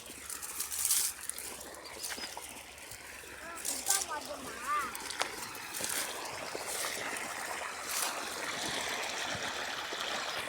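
Irrigation water runs continuously into a groundnut field, a steady rushing trickle with small splashes, while a person talks over the flow.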